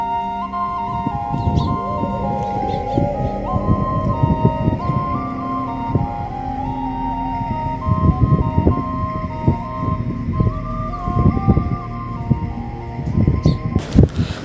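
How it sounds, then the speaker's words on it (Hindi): A gas cylinder delivery truck arrives in a hillside village, its horn or jingle playing a repeating stepped melody over an engine rumble and scattered clatter, with a sharp bang near the end. "ऊपर ना सिलेंडर की गाड़ी आ गई"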